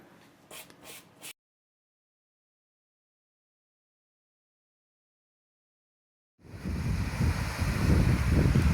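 Water rushing over a man-made weir at Bateman's, a loud steady roar of surf-like churning that starts abruptly after a silent gap, following a few brief sounds at the start.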